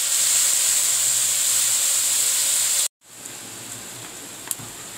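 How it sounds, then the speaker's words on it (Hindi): Fish frying in a kadhai over a wood-fired village stove gives a loud, steady hiss and sizzle. It cuts out abruptly near three seconds, then returns as a softer, quieter sizzle with faint pops. "ये देखिए, मैं अभी कढ़ाई पे चढ़ा रही हूँ।"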